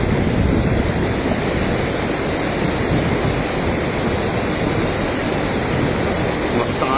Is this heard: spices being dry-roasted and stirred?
no